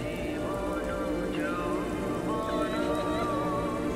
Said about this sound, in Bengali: বাইরের অবিশ্রান্ত বৃষ্টির আওয়াজ